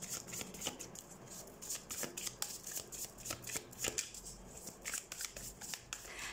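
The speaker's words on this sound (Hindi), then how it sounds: "तो सबसे पहले हम कार्ड शफल कर लेते हैं लियो साइन।" Tarot cards being shuffled by hand, a quiet run of quick riffling flutters and soft slaps repeating steadily at close range, with no talking.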